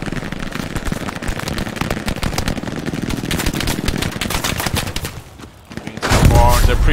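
Rapid gunfire in an online shooter as the enemy pre-fires a barn, a steady stream of close shots for several seconds, a brief lull, then a louder burst.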